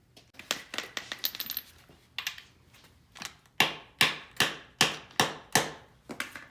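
Metallic hammer strikes ring out as a part is hammered onto a transmission, first a quick irregular flurry of lighter taps, then about eight heavy, evenly spaced blows, loud and close.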